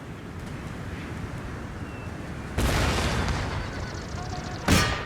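Artillery fire in the strategy game Empire Total War, two sharp booming shots over a constant rushing battlefield wind, the second louder and closer at the end.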